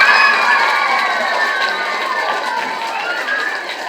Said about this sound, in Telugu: గట్టిగా క్లాప్స్తో కొడదాం